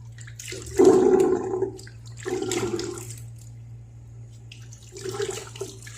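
Used shaving water from a wet shave with a Razorock Game Changer razor is poured down a sink and rinsed, in three gushing splashes separated by brief pauses over a low steady hum.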